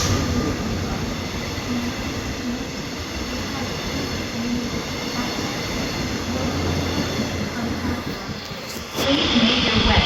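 Passenger train service 1502 bound for Yongsan rumbling along with a steady loud roar of wheels on rail, ending in a sharp jolt and louder noise near the end.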